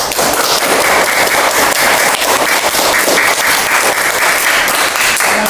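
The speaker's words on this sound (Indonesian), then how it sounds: "tepuk tangan untuk Faris." A classroom of students claps for a classmate, Faris, after his group presents on light, a loud, dense and continuous patter of close hand-clapping that holds steady for several seconds.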